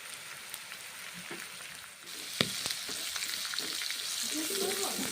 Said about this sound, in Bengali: সবগুলো দিয়েছি, তারপর এখন নেড়ে চেড়ে রান্না করে নিচ্ছি, ভেজে নিচ্ছি কুমড়ো ছোলা ভাজা